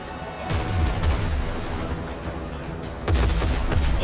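Ship cannons fire in a naval battle in the video game Windrose, booming in two heavy bursts with rumbling overlapping blasts and a lingering roar between them.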